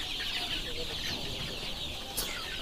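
Forty-day-old Sonali chickens on a poultry farm cluck continuously as a dense flock, a steady nearby chorus of overlapping calls with one brief louder squawk near the end.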